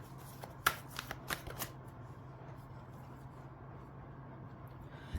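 A Time Oracle card deck shuffled in a card reading: a short cluster of close, crisp card-riffling flicks, then the sound fades into quiet room tone.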